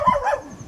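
A village dog near Wai taluka in Satara gives a single short, close bark that fades quickly.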